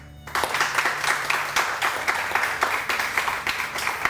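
Studio audience applause on a morning television show, a loud dense burst of many hands clapping that starts abruptly and continues with a lively pulsing rhythm.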